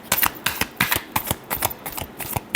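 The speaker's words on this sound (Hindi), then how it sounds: "last shuffle" Tarot cards being shuffled close up, a quick run of crisp riffling flicks and slaps in an uneven rhythm, fairly quiet, with no talking.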